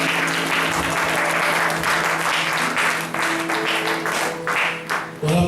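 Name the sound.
congregation applauding for Jesus Christ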